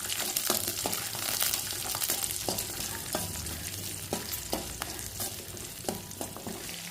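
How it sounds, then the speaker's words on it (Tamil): About fifteen whole small onions and garlic sauté in a hot pan for a tomato thokku, a constant sizzle broken by repeated sharp scrapes and clanks of a spatula stirring them around. "சேர்த்துட்டு நல்லா வதக்கி விட்டுக்குங்க"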